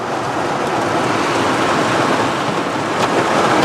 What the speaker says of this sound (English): Oh, it's torrents and torrents of rain.